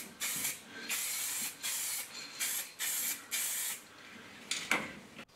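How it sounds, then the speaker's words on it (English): Metallic blue paint sprayed over primer onto a budget hatchback being built into a race car, heard as a series of close, steady hissing bursts about a second long separated by short pauses, with a final shorter spurt. "We had a can of the quite attractive metallic blue mixed up, and that goes over the primer to mimic the patchy paint look of the original."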